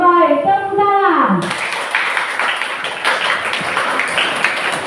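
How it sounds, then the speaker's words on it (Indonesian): Classroom applause from students, a dense burst of clapping that starts abruptly and carries on steadily, following a short sung or chanted tonal phrase. "Tepuk tangan"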